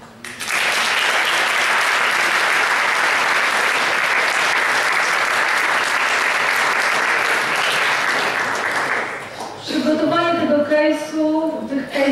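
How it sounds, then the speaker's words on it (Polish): An audience at a Toastmasters leadership event in Warsaw applauds, a loud sustained ovation lasting about nine seconds before it fades out and a person starts talking. "Gorące brawa dla nich."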